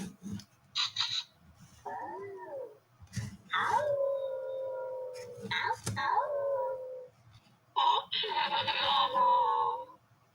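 Robot Luna plays a howling animal call through a small speaker, long rising and falling wails broken by short bursts, fairly quiet with brief gaps between phrases.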